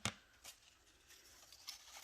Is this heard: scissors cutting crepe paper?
yes